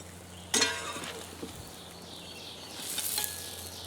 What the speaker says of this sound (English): Still sizzling in the plate.